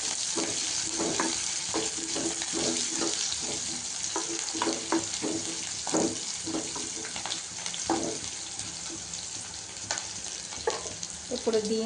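Green chillies and onions fry with cumin and mustard seeds in hot oil, a continuous crackling sizzle with scattered pops and spatters, steady and fairly close, and a voice faintly audible at times.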